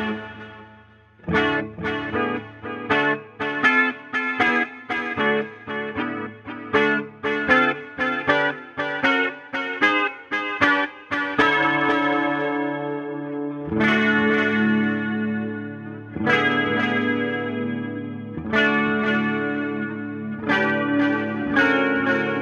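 Electric guitar through a BOSS DC-2 Dimension chorus pedal and a delay plays rhythmic picked notes and then sustained chords, shimmering with chorus and trailing delay echoes; loud and close, no voices.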